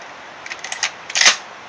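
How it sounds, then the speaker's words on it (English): A shotgun bolt is pulled back by hand, giving a quick run of small metallic clicks followed by a louder, sharper rasp of the action sliding, close up, with no talking. "Pull the bolt back."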